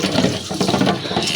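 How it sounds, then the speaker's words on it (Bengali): Pabda fish being rinsed with salt in water, giving a continuous close splashing and sloshing of water with no one speaking. "তো এই যে পাবদা মাছগুলো লবণ দিয়ে আমি ধুয়ে নিতেছি"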